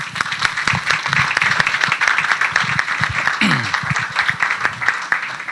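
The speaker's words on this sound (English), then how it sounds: "Please give him a round of applause" An audience at a senator's resolution presentation applauds, a dense, steady patter of many hands clapping that holds for several seconds, with a few voices briefly audible underneath.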